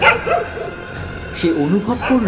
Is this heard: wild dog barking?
yes